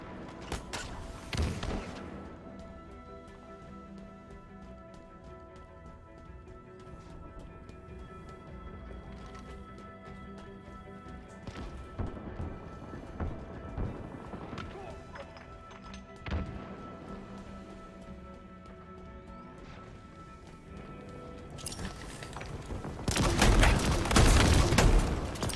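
Grenade thrown in Halo Infinite, with scattered gunfire and impacts throughout before a loud, rumbling blast near the end.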